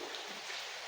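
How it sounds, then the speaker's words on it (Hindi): Steady rain falls in a village during a flood, a faint, even hiss of drops with no other sounds standing out. "अभी तक बारिश हो रही है"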